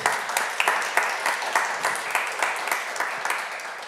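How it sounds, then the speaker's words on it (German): Applause at a conference on safety and transparency for Philipp of the Darmstadt local group, a crowd clapping steadily with bursts of sharper claps throughout, moderately near and without voices. "bitte um einen kurzen Applaus für Philipp von der Ortsgruppe Darmstadt"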